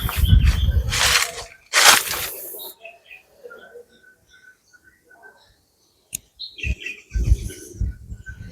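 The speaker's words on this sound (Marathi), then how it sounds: "एकदम पक्ष्यांचा आवाज होतोय बघा एकदम शांतता आहे इकडे" Sparse bird chirps and calls in a quiet village temple setting in Konkan, with bursts of nearby rustling or handling noise at the start and end.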